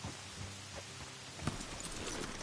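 Horses' hooves clip-clop steadily in a PS4 video game, a rhythmic run of close, moderately loud hoofbeats over a low rumbling background, with no talking.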